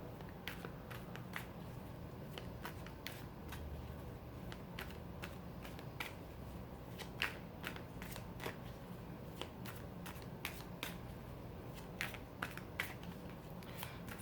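Tarot cards being shuffled and drawn, a steady series of soft, crisp card clicks and flicks at an irregular rhythm, faint and close, with no talking.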